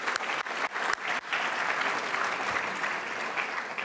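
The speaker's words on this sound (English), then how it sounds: "I think we should clap for him as well" Audience clapping at a university plenary session, a dense and sustained round of applause from a seated crowd, heard alone and continuing evenly for several seconds.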